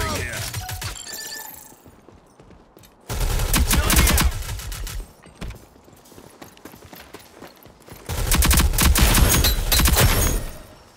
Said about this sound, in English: Shooting here.